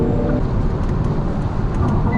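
A Hyundai Ioniq 6 all-wheel-drive electric car accelerating, heard as a steady, loud low rumble of road and tyre noise inside the cabin, with no speech.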